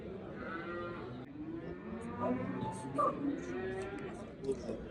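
Cattle at a livestock market in Lenger, with lowing moos and occasional sheep bleats in a busy yard, heard close and moderately loud with people talking over the animals.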